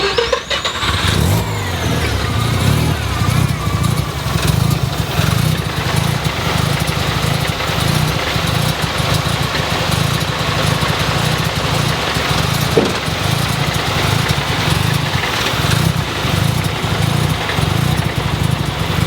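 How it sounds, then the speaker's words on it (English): A 1987 Mazda RX-7 turbo rotary engine fires up with a quick cranking burst, then settles into a loud, steady, buzzing idle that runs close and uninterrupted. "Why don't you fire this thing up and we'll take a listen."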